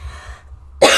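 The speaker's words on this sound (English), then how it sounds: "Sorry whilst I cough." A single sharp, close cough bursts out after a moment of near silence with a low background hum.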